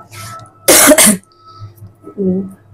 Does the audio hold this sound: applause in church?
no